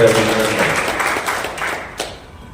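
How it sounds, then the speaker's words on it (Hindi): Loud applause greets a speaker at a BJP OBC Morcha city conference, a thick burst of clapping that gradually fades over a couple of seconds, ending with a few scattered claps. "एक बार जोरदार तालियों के साथ स्वागत करें।"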